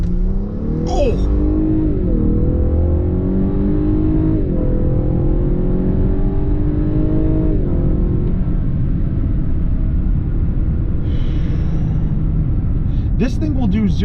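A 2022 Lexus LS500 with a 3.5-liter twin-turbo V6 pulls hard under full throttle, its loud engine note climbing steadily through the gears with brief dips at each shift, as a voice exclaims over it.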